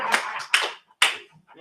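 A few sharp bursts of clapping from an audience at a talk, loud and close, in separate quick outbursts with short silences between.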